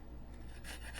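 A single apple rubbed against a grater for coleslaw, close and quiet rasping strokes that grow brighter toward the end.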